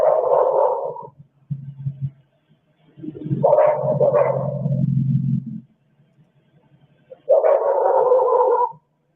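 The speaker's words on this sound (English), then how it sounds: "I just heard another dog bark, and it's way in the distance" A dog barks in the distance in a few drawn-out, howling bursts separated by pauses, faint and echoing outdoors, with no one talking.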